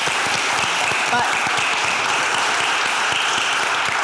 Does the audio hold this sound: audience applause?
yes